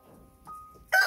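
Hens at a henhouse with an automatic coop door let out a brief cluck, then a thin steady tone, then a sudden loud squawking burst, all close and without talk.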